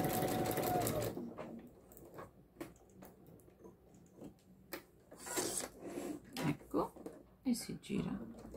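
A sewing machine stitches a fabric car door handle cover at reduced speed, running in short bursts of rapid mechanical whirring broken by pauses, fairly close and moderately quiet, with a few soft handling clicks between runs.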